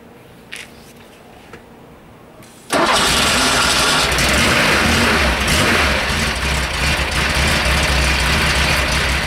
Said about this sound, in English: I'll put the camera behind the car and start the car up